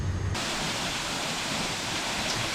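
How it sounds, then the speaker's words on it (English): Water running off a wet hillside from rain and snowmelt, a steady close broadband rush with no break, heard alone after a brief thump at the start. "Between the rain and the melting snow, there's lots of water running down off this hillside today."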